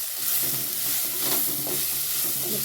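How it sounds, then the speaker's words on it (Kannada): Fish curry with salt being stirred in a frying pan, a steady close sizzle with scraping strokes of a spoon running throughout, no voices. "ಮಿಕ್ಸ್ ಮಾಡಿ ಚೆನ್ನಾಗಿ"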